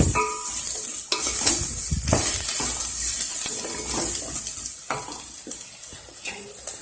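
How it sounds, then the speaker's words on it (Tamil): Loud, close sizzling of plantain frying in hot oil, with scraping stirring strokes and occasional clatter against the pan throughout. "எண்ணெயிலேயே ஃப்ரை ஆகணும்"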